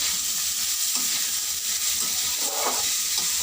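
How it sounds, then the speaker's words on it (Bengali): Food frying in a pan over a medium gas flame gets stirred after salt goes in: a constant soft sizzle with a few scraping stir strokes, close by and with no voices. "একটু নাড়িয়ে নিচ্ছি।"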